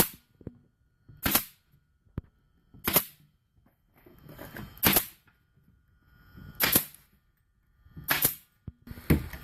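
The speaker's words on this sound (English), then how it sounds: "and put the staples in the back" T50 staple gun driving staples into the back panel of a base cabinet, six sharp snapping shots spaced about one and a half seconds apart, loud and close with quiet handling noise between them.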